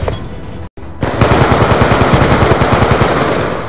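Rapid automatic gunfire from Call of Duty: Black Ops 2 rattles in a fast, steady burst after a brief cut to silence.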